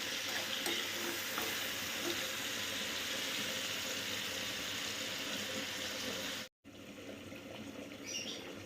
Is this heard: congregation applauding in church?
no